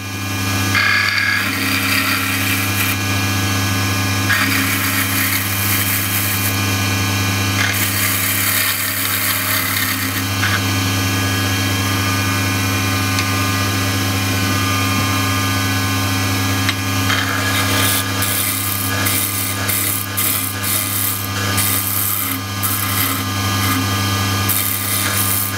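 A wood lathe spins a spindle as a turning tool tidies up a corner, giving a steady, loud motor hum with a continuous scraping and rubbing of the cut across the whole stretch, without speech.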